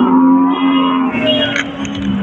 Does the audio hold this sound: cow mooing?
yes